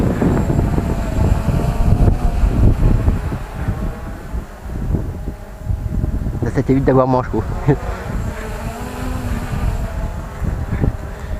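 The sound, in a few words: Bugs 3H drone hovering overhead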